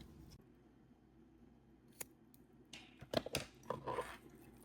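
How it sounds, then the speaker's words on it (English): Scissors snip through a sari silk necklace cord at both ends, a sharp click near two seconds followed by a cluster of close crisp cuts and handling noise, no voices. "I'm going to go ahead and cut my cord at both ends"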